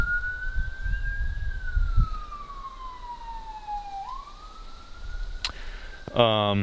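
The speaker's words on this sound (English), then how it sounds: "Why do I hear sirens so close?" A siren wails nearby, its steady tone sliding slowly down and back up, with low rumbling background noise and a brief burst of other sounds near the end.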